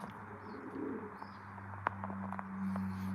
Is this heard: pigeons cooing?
yes